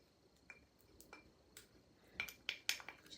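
Spoon clinking and scraping in a bowl while mixing a thick turmeric and honey face mask, a sparse run of faint light taps growing into a few sharper clinks near the end, no talk.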